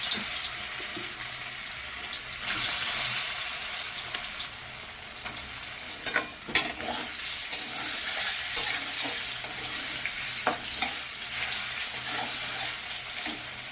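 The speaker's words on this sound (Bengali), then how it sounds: "এবার আমি সয়াবিনগুলোকে ভালো করে একটু লাল লাল করে ভেজে নেবো" Soybean chunks fry in hot oil in a pan, a continuous moderate sizzle with periodic stirring scrapes and a few sharp clinks, no voices present.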